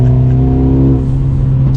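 A 2020 Mercedes-AMG CLA 35 four-cylinder engine revs loud and close, a steady throaty drone holding through the whole short burst with no talk over it.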